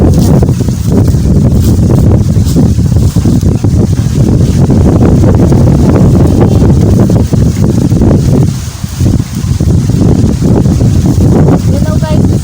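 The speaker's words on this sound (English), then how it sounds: "it's really windy, that's why it's hard" Strong wind roars and buffets the microphone outdoors in the woods during hot weather, a loud, continuous rushing that swells and dips briefly near the end.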